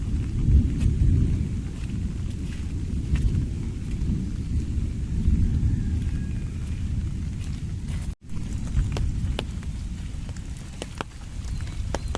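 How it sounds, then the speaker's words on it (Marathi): Deep, rolling thunder rumbles continuously beneath a steady wash of the season's first rain in a village in Rajapur, Ratnagiri, with a brief drop in sound near the end. "गडगडाट आवाज येतात इकडे"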